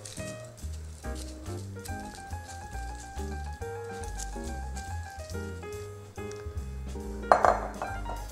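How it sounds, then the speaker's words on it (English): A spoon stirs cornflakes into melted butter in a bowl, making soft scraping, light clinks and crunchy rustles in short bursts, close and fairly quiet, with no talking. "You're going to stir the cornflakes in the melted butter."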